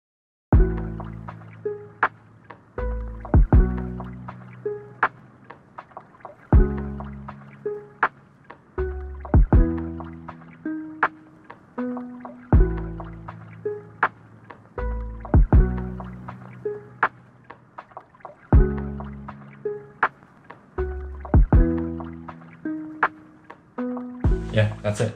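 A simple lofi beat made from scratch plays alone in a steady, looping rhythm, with soft repeated bass and chord hits under crisp percussive ticks. It stays fairly quiet and even throughout.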